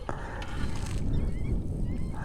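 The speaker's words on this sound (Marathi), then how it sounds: "जशी आपण बाईक घेऊन जाईल तिथं सगळे पक्षी उडून जातील" A flock of birds honks as it takes off from a lake where water stays all year, with repeated calls over a low, rumbling background.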